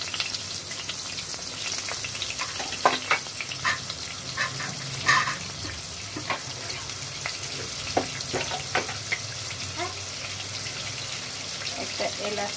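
Onion frying in oil in a pan, a steady broadband sizzle with a few soft clinks and stirring knocks, faint voice in the background.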